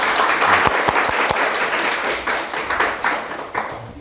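Audience applause closing an interview session with a junior engineer, a dense wash of many hands clapping steadily for about four seconds, fairly loud, with a few sharp low taps near the start.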